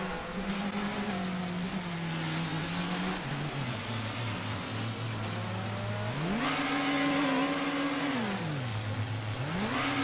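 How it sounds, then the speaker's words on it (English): Porsche race car in the racing sim GTR2 at Silverstone, its engine note rising and falling through repeated upshifts and revving while it warms up tires, steady and close with no talk. "Not very quick, the Porsche."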